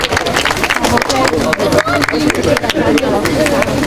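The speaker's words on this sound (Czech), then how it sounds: "ještě jednou potlesk pro chlapce na prvním, druhém, třetím místě" Applause breaks out for boys placed first, second and third at an outdoor workout-park sports award ceremony, a crowd clapping steadily and fairly close while an announcer speaks over it.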